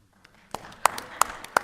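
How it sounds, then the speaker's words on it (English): A few sparse, fairly faint hand claps from the audience at a city council meeting, starting hesitantly and then landing as three or four sharper claps over roughly a second. "Any applause for that?"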